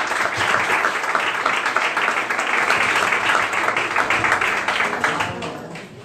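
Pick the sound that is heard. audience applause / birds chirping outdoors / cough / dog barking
audience applause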